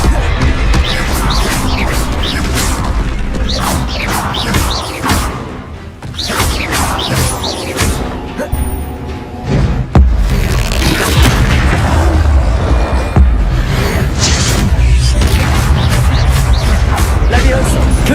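Explosive spell blasts from the video game Hogwarts Legacy: loud, dense booms and crashes with whooshes come almost nonstop, heavy and close, with short dips before the barrage picks up again. A voice calls out over the action.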